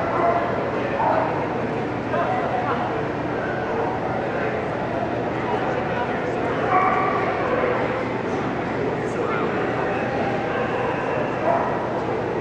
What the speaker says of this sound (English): Again, the puppy.